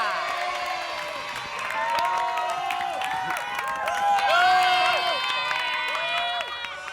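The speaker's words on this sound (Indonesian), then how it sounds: "Dan di sebelah kiri mana tepuk tangannya?" Comedy cabaret audience at an Indonesian TV show cheering and clapping, a lively crowd roar with whoops under loud music and a host's voice, swelling toward the middle.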